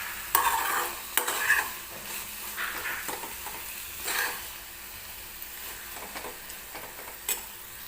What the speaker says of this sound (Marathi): तर 1-2-3 मिनिटे परत आपल्याला हे शिजवून घ्यायचं आहे हलव्याला.